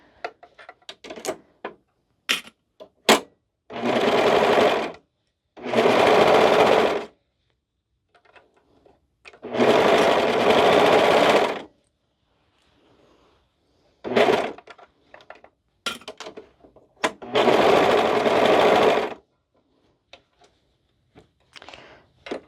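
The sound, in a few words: sewing machine sewing a cardigan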